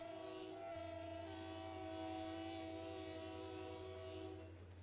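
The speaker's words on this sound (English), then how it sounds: "Just gonna enjoy watching this train roll over the bridge." Train rolling across a bridge in the railway game Railroader, a sustained tonal horn-like whistle ringing over a low mechanical rumble and fading near the end, no speech.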